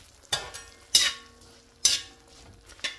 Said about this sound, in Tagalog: Tapos igigisa yan.